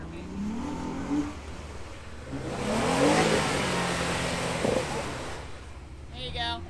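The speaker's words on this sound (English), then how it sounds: "You just gotta test that rev limiter right there" Jeep Wrangler JLU Rubicon engine revving hard toward its rev limiter on an off-road trail, a loud, nearby rising roar that swells, holds and falls, with voices talking around it.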